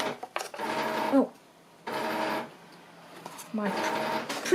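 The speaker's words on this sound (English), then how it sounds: "my printer's just sprung into life" A home printer starts up and runs through printing passes in three long mechanical bursts separated by quieter gaps, close and steady, with a voice speaking faintly around it.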